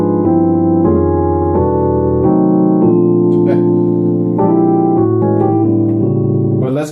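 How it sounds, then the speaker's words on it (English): A keyboard plays a transition chord progression, with full sustained chords changing about once a second and ringing out clearly with no other sound. "We're going to do a transition to chords, which is going to sound like this."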